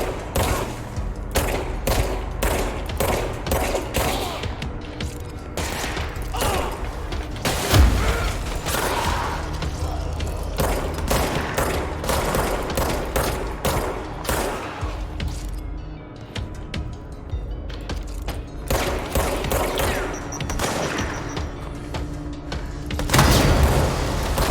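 Dense video game gunfire, near-continuous bursts and rapid shots with occasional heavy thumps and booms, loud throughout nearly 25 seconds, friendly fire among teammates.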